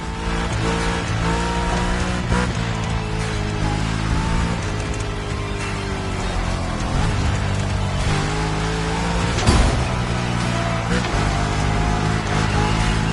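A tuned Shelby GT500 in The Crew Motorfest roars steadily at high revs, its pitch sliding up and down through gear changes, with a brief sharp hit near the end and a voice speaking over it.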